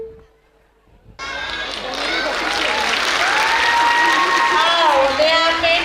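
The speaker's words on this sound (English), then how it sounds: "Parents, please give them a huge round of applause" An audience applauds and cheers loudly at a school annual function, a sudden burst of clapping that swells and holds steady, with excited voices and shouts mixed into the din.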